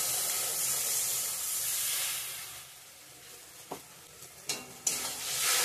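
Spice paste sautés with potatoes and pointed gourd in a pan for a vegetarian curry, a steady hissing sizzle that fades slightly, then a few sharp clanks and scrapes of stirring near the end.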